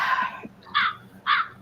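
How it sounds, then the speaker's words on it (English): A crow caws three times in a row: one longer harsh call, then two shorter ones spaced about half a second apart, fairly close and with no voices over it. "A crow, damn."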